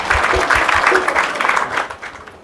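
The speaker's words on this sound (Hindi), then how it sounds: "ताली बजाओ भाई, ये गुरु गोविंद सिंह को देख के आइए।" Children clapping together at a Sunday children's satsang gathering, a dense patter of hand claps that carries steadily and close, fading slightly toward the end with no speech over it.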